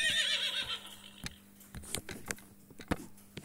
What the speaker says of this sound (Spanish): ¡Un caballo! ¡Ven aquí!